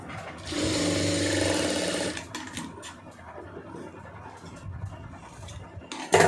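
A sewing machine stitches two cross-cut fabric pieces together for piping, running in a loud steady burst for about two seconds, then stopping, followed by fainter handling and rustling sounds.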